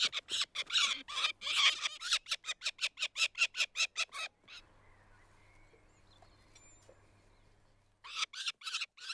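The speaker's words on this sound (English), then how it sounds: "The young peregrine falcons are next in line after the eagle owls." Young peregrine falcon fledglings calling in the mountains, a rapid series of harsh, rhythmic squawking cries, fairly close, then a pause with faint background before the calls resume.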